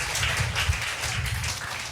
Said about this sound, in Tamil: நல்ல ஒரு கைத்தட்டு கொடுங்க.